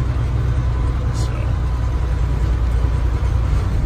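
A 1999 Freightliner FL70 truck engine idles on a cold morning, a steady, close, unbroken low rumble that holds even throughout.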